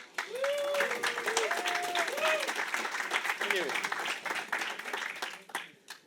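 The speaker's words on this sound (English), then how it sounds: "Please give a round of applause." Applause welcomes a speaker at a no-code conference on monitoring Bubble.io apps, steady clapping filling the room throughout with voices and tonal sounds mixed in, fading toward the end.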